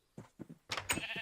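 Sheep in Minecraft with the NeoCraft modpack, giving a few short, close bleats in quick succession within about a second, fairly quiet and with no talk.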